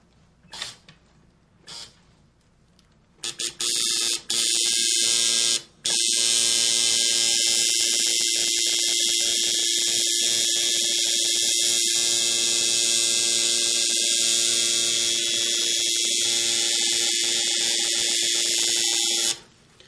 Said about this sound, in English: the machine was actually angled a little bit to the side, but I did go very slow with it